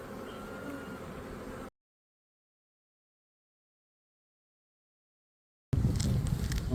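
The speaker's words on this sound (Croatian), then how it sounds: "Pčele su mirne." Honeybees buzzing around beehives at an apiary, a steady insect hum that drops out into silence partway through, then returns louder and closer.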